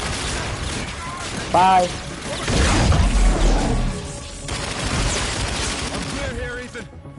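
Gunfire and explosive crashes in the video game Infinite Warfare, with bursts and whooshes under in-game radio voices talking.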